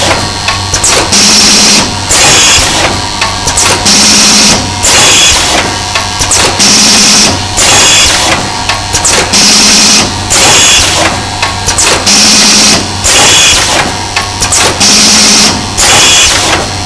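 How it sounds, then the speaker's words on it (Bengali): A paper cone making machine runs empty with no paper fed in, giving a loud, steady mechanical clatter that cycles in a regular rhythm about every two seconds, with periodic bursts of hiss and knocking and a constant low hum. "প্রোডাক্ট ছাড়া আমরা মেশিনটা অপারেশন করছি।"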